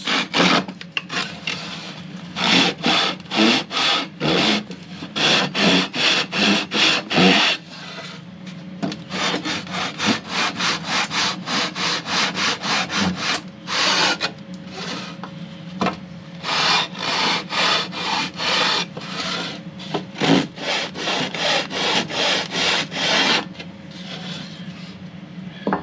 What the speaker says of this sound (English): I'm going to take my sanding beam and make sure that it's even